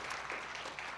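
Congregation applauding in a church as flowers are presented to a newly honored deaconess, a steady dense patter of many hands filling the short moment with no voices over it.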